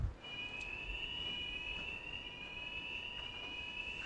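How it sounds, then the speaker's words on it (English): A building alarm sounds during a web development workshop: a steady, piercing electronic tone holds unbroken for several seconds at moderate level, with faint room noise underneath and no talking. "I don't know if I set off an alarm somehow."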